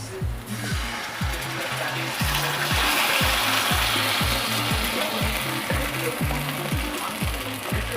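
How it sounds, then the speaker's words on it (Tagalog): Sauce poured over onions frying in a pan, with a steady broadband sizzle running throughout alongside a regular, rapid clicking or ticking pattern, close and fairly loud. "At ang sibuyas. Lagay po natin ang sauce."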